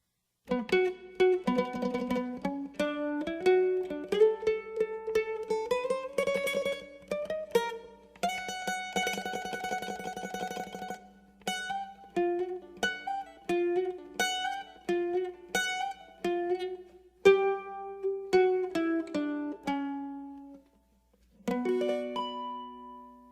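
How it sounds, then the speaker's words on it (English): A mandolin plays a lively tune alone, with bright plucked and tremolo notes, sliding runs and a short pause near the end. "He's played by a mandolin. It's got 4 sets of double strings"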